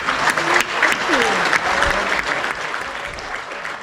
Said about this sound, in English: give yourselves a round of applause for being incredible